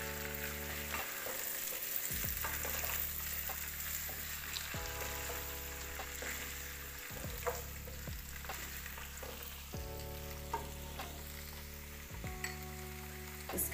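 Three bell peppers cut into cubes are stirred into frying chicken jalfrezi, making a constant sizzle with occasional utensil scrapes while steady tonal background sound runs underneath.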